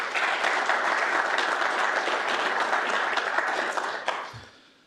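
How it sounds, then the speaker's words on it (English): Sustained applause from an audience at a city's State of the City presentation, steady and dense for about four seconds before fading out quickly. "we won't have to do a whole lot more clapping"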